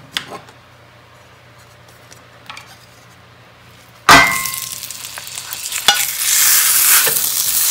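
Ground meat hits a hot cast iron skillet on medium-high with a sudden loud sizzle after a few quiet taps, then keeps frying steadily, with occasional scraping and clanks of a utensil breaking it up.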